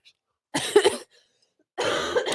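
A person coughs in two close bursts, the first a quick cluster of harsh coughs and the second a longer rough cough after a short silence, loud and near with no talk.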